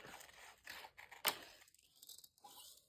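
Scissors cutting around a photograph, faint close snips and paper rustle with one sharper crisp cut partway through, then near quiet.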